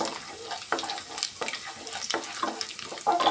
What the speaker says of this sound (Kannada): ಸ್ವಲ್ಪ ಕಡಲೆಬೇಳೆ ಉದ್ದಿನ ಬೇಳೆನ ಸೇರಿಸ್ತಾ ಇದ್ದೀನಿ ಇದೆಲ್ಲ ಚೆನ್ನಾಗಿ ಒಂದ್ಸತಿ ಈ ಥರ ಫ್ರೈ ಮಾಡ್ಕೊಳ್ಳೋಣ